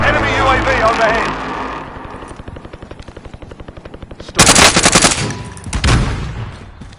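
Rapid machine gun bursts in a shooter video game, a steady rattling stream of shots followed by louder blasts and engine-like noise, with voices talking over the gunfire.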